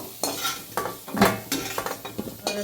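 Potatoes frying in oil in a pan are stirred and scooped out with a utensil, giving a series of uneven scraping, clattering strokes over a soft sizzle, close and fairly loud.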